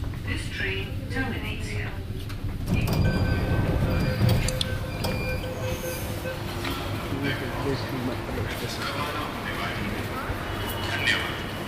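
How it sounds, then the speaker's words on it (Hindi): A Delhi Metro train rumbles along with a continuous low roar and occasional squeals and clatters of wheels on track, swelling louder partway through. "अब मेट्रो यहाँ से चल पड़ी है"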